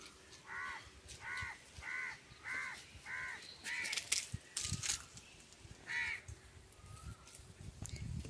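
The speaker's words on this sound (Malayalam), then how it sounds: "ഈ കിളികൾ ഏത് നേരവും അതേ തന്നെ ഇങ്ങനെ ഇരിക്കുന്നു." Crows caw in a quick regular series of five or six harsh calls, moderately near, followed by a few scattered bursts and one more caw after a pause, with no talk.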